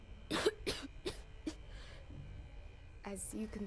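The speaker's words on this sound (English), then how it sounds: "I've got this bad cough." A video game character coughs in a series of four sharp, harsh coughs at a steady rhythm, followed by a pause and a rougher throat-clearing burst, all close and fairly quiet against a low background hum.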